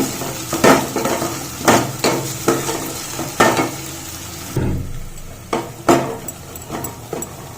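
Ginger garlic paste frying with onions in a pan for paneer dum biryani, with a steady sizzle under repeated scraping and stirring strokes of a utensil against the pan, fairly close and loud.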